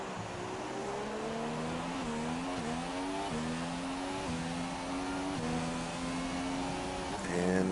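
Race car engine in an online racing game at the China GP, heard from on board the leading car: a loud, steady high-revving drone with repeated pitch shifts through gear changes and a brief tyre squeal near the end.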